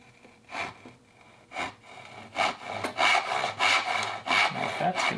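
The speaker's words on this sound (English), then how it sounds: "Just come with a chisel and mark out that shoulder right there." Chisel marking out a dovetail shoulder in wood by hand, a series of short scraping rubs that grow louder and more regular toward the end, close and alone.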